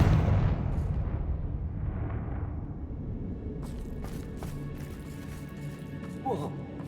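A Confringo fire spell blast in Hogwarts Legacy opens with a loud, booming explosion that rolls off into a rumbling decay, followed by scattered crackles and light impacts, with a brief voice near the end.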